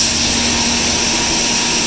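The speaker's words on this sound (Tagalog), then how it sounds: "Yan, napakaingay. Talagang ganyan ang ingay na makina." Styrofoam factory mixing machine driven by two motors, blending regrind and virgin beads, running with a loud, constant droning whir and steady hum, no pauses or talk.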